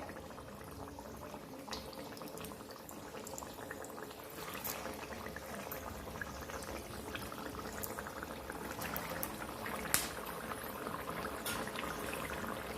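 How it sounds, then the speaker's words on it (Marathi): Vada dropped into hot oil over a high gas flame fry with a steady, close, crackling sizzle that holds evenly throughout, with one small pop near the end. "तेलात वडा सोडताच्या वेळेस गॅस आपला फास्ट ठेवायचा आहे"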